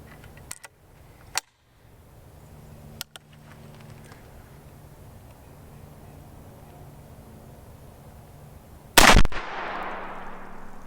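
A Shiloh Sharps cavalry carbine rifle fires several sharp shots on a range: a few quick reports early on, then one loud, close blast near the end with a ringing decay.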